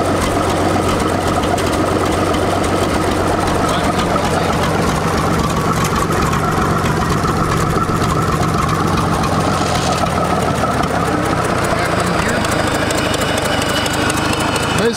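A loud farm engine, a single engine driving two hydraulic systems through a clutch, runs continuously with a rough, chugging drone, its pitch shifting slightly partway through as the hydraulics load it.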